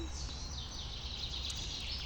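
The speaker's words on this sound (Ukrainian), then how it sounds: "Сидимо, слухаємо спів пташок." Birdsong at a lakeside, a steady bright chirping that carries on through the whole short moment over soft outdoor background with no talking.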